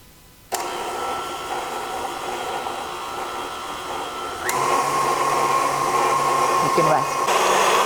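An electric hand mixer whirs steadily while beating soft butter, sugar and two eggs for pumpkin drop cookie dough; the motor hum is continuous and close, stepping up to a higher speed partway through.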